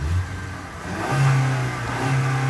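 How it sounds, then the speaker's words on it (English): A 2022 Ford Maverick pickup's engine given a quick rev from idle, the pitch climbing and holding in a steady mid-range drone before easing back, close and fairly loud with no talking. "We'll give it a quick rev."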